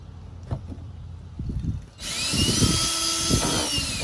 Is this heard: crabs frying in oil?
no